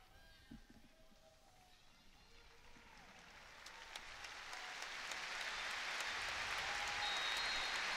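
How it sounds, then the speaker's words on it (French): A football stadium crowd at a Champions League match between Lille and Juventus gradually swells into sustained applause during a minute of silence, rising from a murmur to a broad, roaring wash of clapping. "Minute de silence transformée en minute d'applaudissements"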